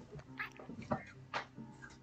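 A cat meows several times in short, rising and falling cries, close by and moderately loud over a steady room background, each call lasting a fraction of a second.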